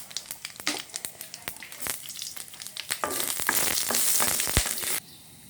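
Whole spices like fennel seed, cumin seeds and cloves crackling in hot oil in a wok, with rapid popping bursts building into a dense sizzle before cutting off abruptly near the end.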